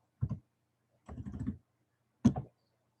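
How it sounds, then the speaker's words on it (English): A computer keyboard is tapped while entering a number in AutoCAD, three short close bursts of key presses separated by pauses, the middle burst a quick cluster of keys, in an otherwise quiet room. "Now I tap 200 here from the keyboard"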